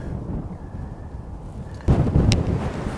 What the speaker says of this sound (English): straight in the teeth of the wind